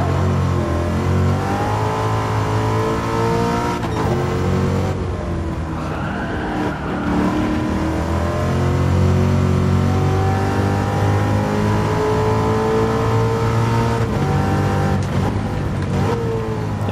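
A 1965 Shelby Mustang G.T.350 in Gran Turismo 7 at Laguna Seca runs flat out in fourth gear, its engine roaring loudly and steadily while it bounces off the rev limiter, with brief tire skids and no talking.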